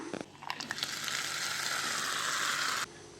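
Electric mixer grinding coconut chutney ingredients with ginger, garlic and salt, a steady loud whirring grind that starts with a few clattering bursts and stops abruptly near the end.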